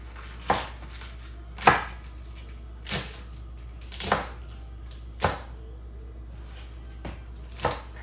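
Knife roughly chopping cabbage or turnips on a cutting board during meal prep, about eight sharp, separate thuds spaced irregularly over several seconds, close and distinct against a quiet background.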